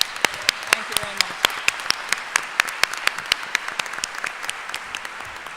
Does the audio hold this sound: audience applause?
yes